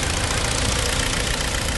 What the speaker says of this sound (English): Coming on to the engine. Engine's been running since we started.